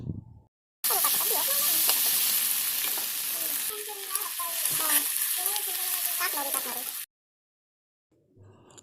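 Ginger garlic paste fries in a pan, a loud dense sizzle with scraping stirs that starts abruptly, holds for several seconds and cuts off, with a brief voice before and after.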